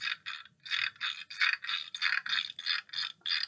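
A frame drum is played quietly with the hands, giving a rhythmic series of soft, brushy taps and rubs in an even pattern, fairly faint and alone.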